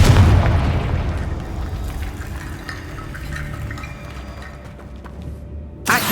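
A Confringo fire spell explodes in the Hogwarts Legacy video game, a booming blast with a crackling, rumbling tail that lingers for several seconds before a sharp cutoff and a brief new thump near the end.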